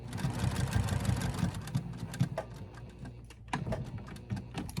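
A sewing machine stitches hoodie fabric for a patchwork hoodie in short, rapid mechanical runs, the motor buzzing loud at first, then in quieter separate bursts.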